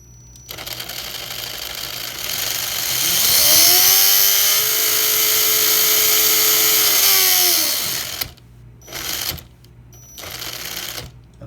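A free-running RC car drivetrain with 3D printed gears spins up into a loud, sustained whine that rises in pitch and holds for several seconds, then cuts off, followed by two shorter bursts.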